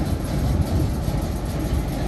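An O3 diesel shunting locomotive at a heritage railway station idles with a steady low rumbling drone, close and continuous.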